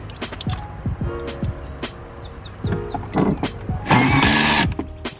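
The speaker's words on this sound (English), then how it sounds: "And then just screw it back in." A screw being driven back into interior trim on a Toyota Tundra, with short squeaky turning and scraping sounds, light plastic clicks and a brief louder rasp near the end, all fairly close with no talking.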